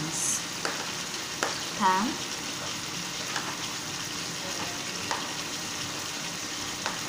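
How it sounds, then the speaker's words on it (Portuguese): Chicken breast fillet grilling in a pan, a steady soft sizzle and hiss running throughout in the background, with a couple of faint clinks and a brief spoken word near the start. "Esse barulhinho que tá no fundo é do filé de peito que eu tô grelhando"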